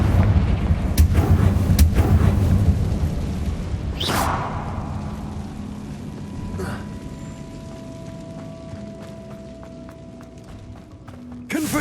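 Fire spell blasts cast in Hogwarts Legacy during combat, with a sharp whooshing burst near the start and further thumping impacts over a low rumbling game soundscape.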